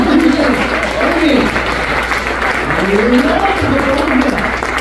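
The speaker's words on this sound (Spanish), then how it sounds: "Esta es la parte que ustedes aplauden." A church congregation claps steadily throughout, a dense continuous wash of applause that fills the room, with a voice and some cooing-like tones faintly over it.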